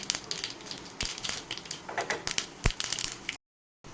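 Mustard seeds, urad dal and cumin splutter in a small tempering pan of hot oil, giving close, irregular crackles and sharp pops before the sound cuts off abruptly.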